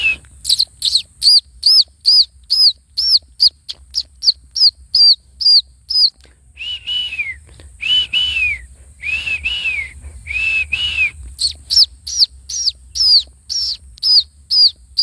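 A person whistles imitations of sparrow chirps: rapid, sharp high tweets in rhythmic bursts, with a few lower warbling calls in the middle, loud and close.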